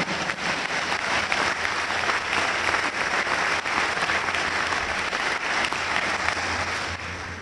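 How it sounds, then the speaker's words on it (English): Family and friends in a chapel applaud during a college commencement ceremony, producing a long, steady wash of clapping that stays loud for several seconds before tapering off. "yes, applaud family and friends"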